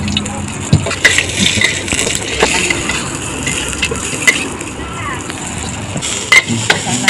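Ginger being stir-fried in a wok gives a steady sizzle with scraping and clattering stir strokes throughout, close and fairly loud, with no talk.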